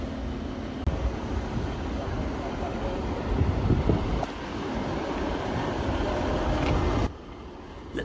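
Class 150 diesel multiple unit from the 1980s on the Marston Vale Line, a steady broadband rumble of running train with wind buffeting, continuous and fairly loud, dropping abruptly near the end.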